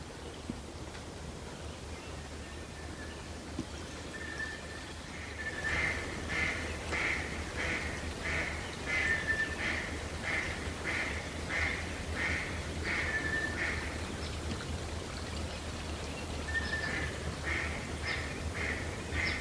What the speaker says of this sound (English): Can hear some ducks out in the bigger part of the swamp pond out there.